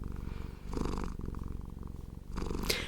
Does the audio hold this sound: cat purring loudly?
yes